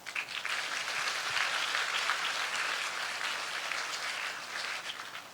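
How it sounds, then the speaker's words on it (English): Dense, steady applause from graduates filling the hall at the IMU convocation ceremony, a continuous wash of many hands clapping close by with no talk over it. "So a huge round of applause to us for making it till here."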